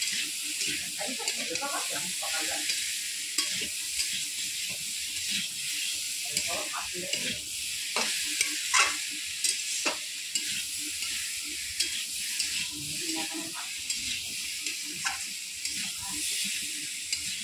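Curry being stir-fried (kosha) in a pan: a loud, continuous sizzle and hiss, broken by sharp clinks and scrapes of stirring at irregular intervals.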